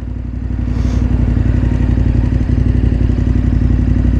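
KTM 1290 Super Adventure R motorcycle being ridden, its engine droning steadily and loud throughout with a rumbling low end, no voices.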